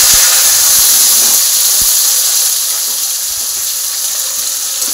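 Spice paste hits a hot pan and sizzles, a loud, steady broadband hiss close up that eases slightly after a couple of seconds, with faint clicks underneath.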